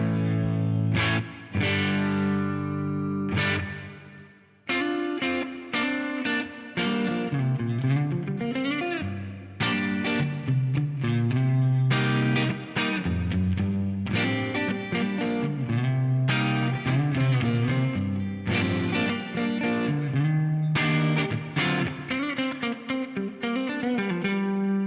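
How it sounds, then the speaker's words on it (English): An electric guitar runs through the nuance reverb algorithm of a GFI Specular Tempus effects unit, playing continuous sustained notes and chords with lush, shimmering ambient tails that fill the whole passage. "I can select a different algorithm. For example, the nuance reverb."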